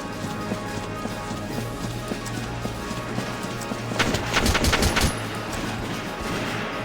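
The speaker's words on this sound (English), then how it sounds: "Tank's too busy firing at him." Tank firing in Valkyria Chronicles, a rapid burst of gunfire cracks around the middle of the clip over steady game background noise, with no talk.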